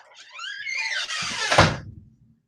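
A door creaks open with a rising, wavering squeak, then bumps shut with a solid thud, heard close and alone before silence returns.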